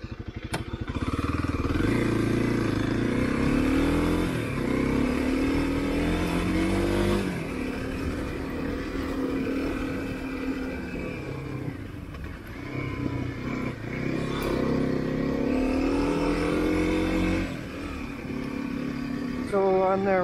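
A Kawasaki KLX250 dirt bike engine runs steadily while riding, its pitch rising and falling as the rider throttles up and shifts, close and fairly loud throughout.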